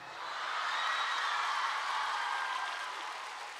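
Crowd applause at a youth dialogue event with India's finance minister Nirmala Sitharaman, a dense even clapping that swells quickly and holds steady, with no speech over it.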